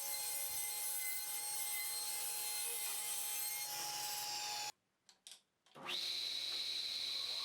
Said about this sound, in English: The first thing I do is trim the rounded edges off the 2x4.